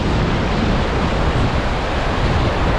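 Fast-flowing river water at Ramling island, a dense continuous rushing roar with wind-like buffeting on the microphone, loud and close throughout, with no voices.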